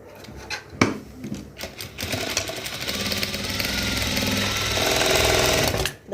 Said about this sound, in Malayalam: ഇങ്ങനെ നമുക്ക് ടക്ക് തയ്ച്ച് കൊടുക്കാം.